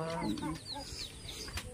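Fighting roosters cluck and murmur nearby in short overlapping calls, with a quiet voice talking faintly underneath.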